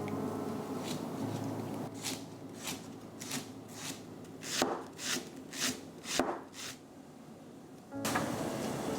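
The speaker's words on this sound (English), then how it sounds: "Next, finely chop the spring onion." A knife finely chops spring onion on a board in crisp, evenly spaced strokes, fairly close, with a short pause before a final burst of cutting.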